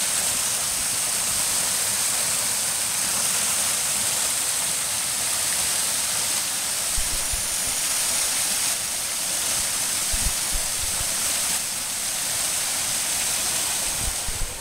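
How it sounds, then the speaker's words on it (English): Several small man-made waterfalls beside a mountain highway in Taiwan pour in a steady, close, full rush of falling water. A few low thumps sound near the end, with no voices. "where I've stopped now is at the foot of several different little unnatural waterfalls that have been implanted"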